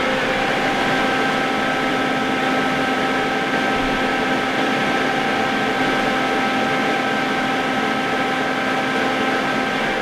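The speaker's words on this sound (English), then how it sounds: "I got the TIG welder up and running." A TIG welder set at about 50 amps, welding 304 stainless steel, gives a steady electrical hum with a constant buzzing drone, running continuously at close range with no talking.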